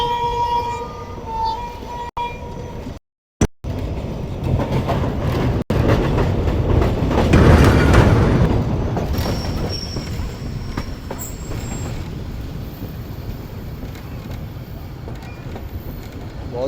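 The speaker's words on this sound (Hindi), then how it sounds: "ट्रेन हमारी पहुंचने वाली है हैदराबाद जंक्शन रेलवे स्टेशन पर" A train approaching Hyderabad Junction railway station on the Mirpurkhas to Karachi route: steady wheel rumble with drawn-out squealing of wheels, swelling louder midway, with brief dropouts and a few high squeal tones later.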